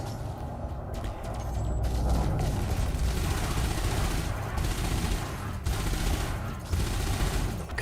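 Spaceship weapons fire in the Elite Dangerous space game as a dense, loud, continuous rattling barrage, broken by a few brief pauses, over a deep rumble.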